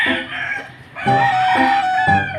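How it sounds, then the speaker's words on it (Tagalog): A rooster crows loudly nearby, repeating in long drawn-out calls, with hens clucking between them. "narinig nyo yung mga manok"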